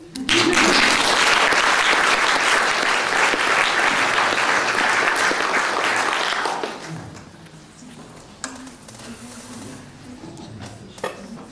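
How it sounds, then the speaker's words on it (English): An audience applauds after a sustainability and health talk, loud sustained clapping for about six seconds that then fades to scattered claps and quiet room noise. "I think she deserves an extra round of applause for that."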